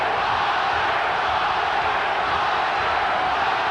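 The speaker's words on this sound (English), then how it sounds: "Crowd chanting, Oscar, Oscar, Oscar." Arena crowd at the Oscar De La Hoya vs. Pernell Whitaker boxing match, a dense sustained roar of many voices chanting throughout, loud and continuous with no break.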